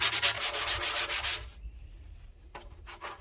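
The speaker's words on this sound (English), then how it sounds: "you might as well go ahead and sand the whole form" Sanding a taxidermy form for a 650 lb wild boar head, rough strokes rubbing back and forth in a quick steady rhythm for about a second and a half, then a pause before a few fainter scrapes, close and alone.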